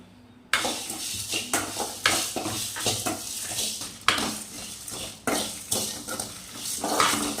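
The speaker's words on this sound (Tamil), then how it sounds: "ஸ்டாரு பூவு, கொத்தமல்லி தூள், கொத்தமல்லி, வர கொத்தமல்லி, இதெல்லாம் போட்டு நல்லா பொன்னிறமாக வறுத்துக்கணும்" Star anise and dried coriander are dry roasted and stirred in a pan, giving repeated scraping and metallic clinks of the utensil against the pan in an uneven rhythm, close and fairly loud over a faint background sizzle.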